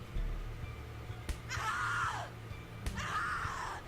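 A woman screams in the horror video game The Cat Lady, two rising-then-falling shrieks, each preceded by a sharp slap-like hit, loud and close over a low droning background.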